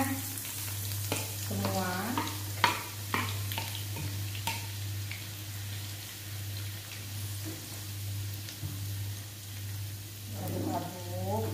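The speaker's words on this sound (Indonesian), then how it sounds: "Sekarang kita goreng dulu bawang merahnya." Shallots fry in a pan over medium heat with a steady sizzle beneath a constant low hum, while a person talks intermittently over the cooking.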